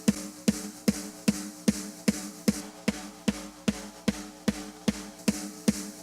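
A steady, evenly spaced series of EZ Drummer 2 snare drum hits, EQ'd to strip out the low end for a heavy metal drum mix, cracking about twice a second at moderate level with no voices.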